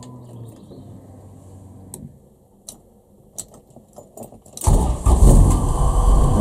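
Key for a Honda Civic EF jangles and clicks in an OEM ignition barrel on the steering column, a few light metallic rattles and taps close by, then a loud car engine starts and runs steadily.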